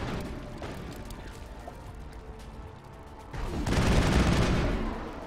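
Gunfire in the sci-fi shooter Mass Effect 1 on Eden Prime, scattered rattling shots under a low hum that swell into a loud, dense burst of rapid fire and rumbling impacts toward the end.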